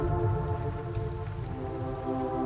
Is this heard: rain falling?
yes